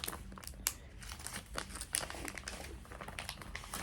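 Packing tape is peeled and crinkled off a box while a Rhino Reaper C4-55D is unboxed, giving close, quiet bursts of crackly tearing and rustling with small sharp snaps, no voices.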